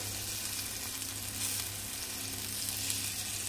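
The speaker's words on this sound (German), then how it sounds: "Jetzt wird das Fleisch in einer Pfanne von beiden Seiten dick angebraten." Chicken meat sears in a pan, browning on both sides, with a steady, dense sizzle and crackle throughout and no voices over it.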